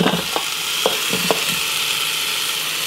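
A beef roast searing in an Instant Pot gives a steady, close sizzle, with a few brief scrapes or taps near the start before it settles into an even hiss.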